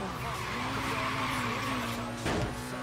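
Tires of a Nissan Silvia S15 screech as it drifts in Forza Horizon 3. A sustained squeal rides over a constant engine drone, and a brief louder scrape comes near the end.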